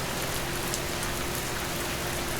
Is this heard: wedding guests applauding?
no